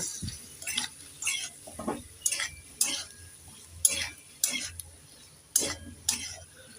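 A spoon stirs ground spice paste into data chorchori in a pan, with repeated scraping strokes in an uneven rhythm, roughly once a second, over light sizzling, nearby and without talking.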